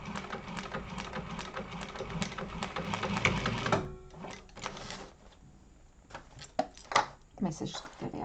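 A sewing machine back-stitching at a one-inch mark during a sewing class, with bursts of fast mechanical clatter that stop and restart, heard close under a voice talking.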